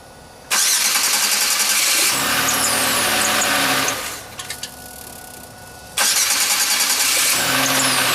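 A Chevy Venture minivan, just fitted with a new starter, cranks and fires twice, each start a loud harsh whir settling into a running engine, with a quieter gap in between.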